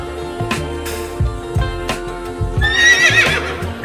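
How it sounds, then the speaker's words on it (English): A horse whinnies loudly with a shrill neigh near the end, over a steady musical backing with rhythmic low thumps. "Horse."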